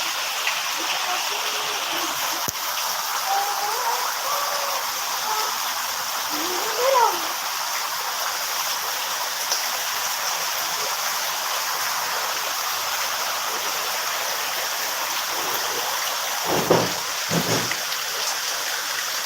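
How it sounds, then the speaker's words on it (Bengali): Heavy rain pours during a downpour, a dense, continuous hiss of falling water over flooded ground, with a couple of brief louder splashes and clatters near the end. "দেখুন কীভাবে বৃষ্টি হচ্ছে"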